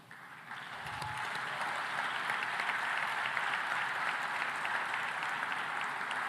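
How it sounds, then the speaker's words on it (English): Audience applause for the finalists at an African food systems forum at JNICC, a broad, steady wash of clapping from a large hall that swells after a brief quiet start and holds evenly at moderate distance. "Please, round of applause."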